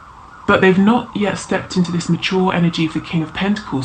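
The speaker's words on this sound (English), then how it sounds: "Sorry about the sirens." Emergency vehicle sirens wail outside, faint and partly masked beneath a person speaking continuously close by.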